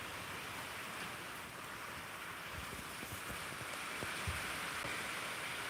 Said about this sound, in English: Can you hear the rain on the roof?